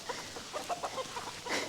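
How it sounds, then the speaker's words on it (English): Chickens cluck in a quick, faint flurry of short calls as a rooster chases a hen on a farm, with other roosters nearby. "Rooster chased the wrong female. He had 3 other roosters tell him no."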